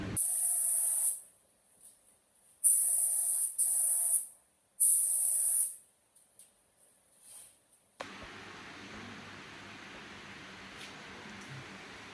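A spray gun laying 2K polyurethane primer onto a truck, in several loud hissing bursts of about a second each separated by short pauses, followed by a lower steady background hum.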